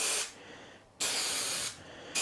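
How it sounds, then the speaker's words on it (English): Spray adhesive hissing from an aerosol can onto a foam DeWalt Toughsystem tool tray insert, in three close, loud bursts separated by brief pauses. "So we're going to put a little bit of spray in the middle"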